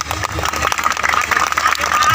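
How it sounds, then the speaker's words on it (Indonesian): A crowd at an outdoor religious gathering with shalawat singing in Cikampek applauds the clerics on stage, a loud, sustained burst of close and distant clapping for a couple of seconds. "Tepuk tangan buat para ajengan yang di panggung."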